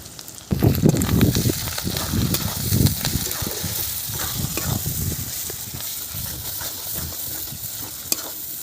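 Poppy seeds, tomato, turmeric, chili powder and salt going into a frying pan while cooking snakehead fish keema: a sudden loud sizzle, then repeated stirring scrapes over a hiss that slowly fades.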